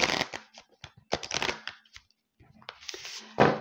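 Cards from the Mythicone oracle deck of legendary creatures are shuffled and one is drawn, a papery riffle and slap heard in quick bursts, close, with someone speaking French between them.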